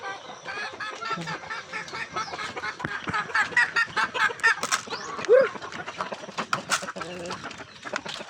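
Pet chickens in a coop on an island cluck and chatter in irregular bursts close by, with other bird calls mixed in and faint background noise.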